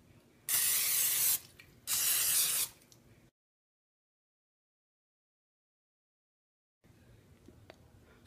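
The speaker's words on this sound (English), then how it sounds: "Spray the Pam onto the waffle maker." Pam cooking spray hits a waffle maker in two separate hissing bursts, each about a second long, close and loud, then silence before faint room noise returns.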